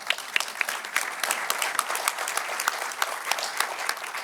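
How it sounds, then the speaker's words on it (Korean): An audience at a Korea–Japan business forum in Jeju claps in unison after being asked to show support, giving dense, steady applause with rhythmic sharp peaks throughout, with no voices over it. "찬동하시면 박수 한번 쳐주십시오"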